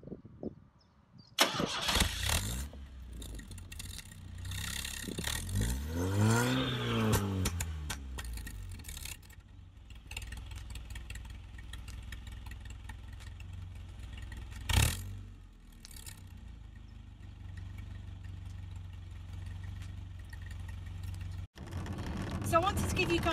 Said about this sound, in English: let's head out to the back and hear what she sounds like from the exhaust.